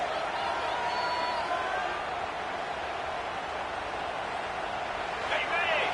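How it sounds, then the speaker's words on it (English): Steady stadium crowd noise roars throughout a college football video game featuring the Gators, a dense, constant wash of cheering under a commentator's voice. "Listen to the crowd energy here in the early going."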